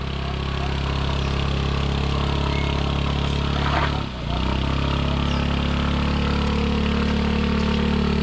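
A motorcycle engine labours on a steep trail at an eco park in Ilocos Sur, giving a loud, close, continuous drone with a brief dip midway before it settles back to a steady run.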